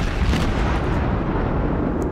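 Cruiser guns firing in the naval game World of Warships, heard as a dense, loud rumbling blast that fills the whole short stretch with no talking.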